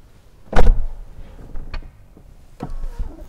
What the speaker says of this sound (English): Soft closing doors, of course.